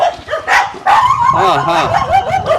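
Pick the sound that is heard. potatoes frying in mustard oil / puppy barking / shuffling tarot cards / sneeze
puppy barking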